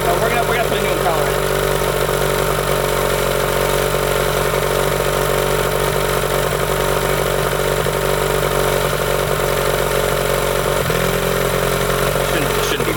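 A 1998 Johnson 15 hp outboard motor idling at a raised idle, a loud, continuous, steady engine drone with no pauses.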